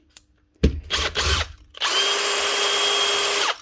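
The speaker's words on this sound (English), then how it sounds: "One Bosch Drill GSB 18V/55 18-volt brushless model." A few clunks and bursts of whirring, then a repaired Bosch GSB 18V-55 brushless cordless hammer drill runs continuously at a steady high pitch for a couple of seconds before stopping.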